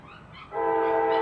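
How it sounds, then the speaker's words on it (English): A train approaches with a low rumble, then its horn sounds loud and sustained in several steady tones that grow stronger toward the end. "Train's getting closer."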